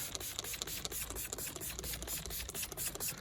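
Quiet, close bursts of hissing spray from a Muc-Off drivetrain cleaner on a bicycle chain, with faint mechanical clicks, repeating in short irregular pulses.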